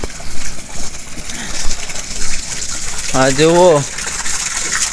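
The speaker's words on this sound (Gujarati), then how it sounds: "જોઈ શકો છો કેટલી દૂરથી પાણી આવી રહ્યું છે" Canal water gushes steadily into a castor field in a village, a continuous rushing flow heard close by while someone speaks briefly partway through.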